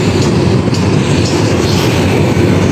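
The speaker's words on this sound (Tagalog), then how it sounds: "Yun ang LRT." A light rail train passes close by near the MacArthur Bridge in Manila, loud and steady with a rhythmic clatter of wheels on the rails throughout.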